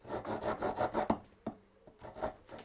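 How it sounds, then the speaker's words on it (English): A hand rasp files inside a hole to widen it, giving a rhythmic series of rough back-and-forth scraping strokes, close and fairly loud, with a short pause and a couple of knocks midway. "just going to get a little bit of rasp action going on here just to make that a little bit wider"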